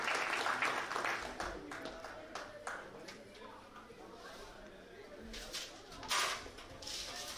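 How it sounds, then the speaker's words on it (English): Scattered audience clapping for performers at an Indian diaspora conference, coming in uneven bursts of moderate volume over faint room sound, with some talk in the hall. "Can we have a round of applause for both the artists?"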